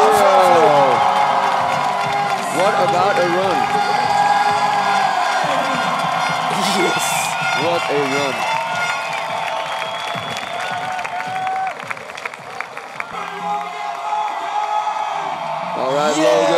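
A large crowd at the FISE World Montpellier 2014 BMX park final cheers, whoops and applauds continuously under excited commentary from an announcer.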